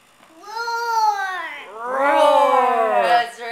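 A young child lets out a long, drawn-out wail in imitation of a lion's roar, rising and falling over a few seconds, loud and close.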